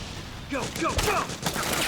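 Battle gunfire from the Metal Gear Solid 4: Guns of the Patriots video game, a dense fusillade of shots under a loud mix of game music and effects.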